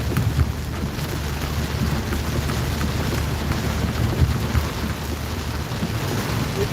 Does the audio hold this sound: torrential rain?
yes